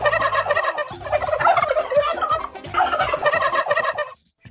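Turkey gobbling loudly and close, repeated rapid warbling bursts in quick succession with a short pause near the end, no talk.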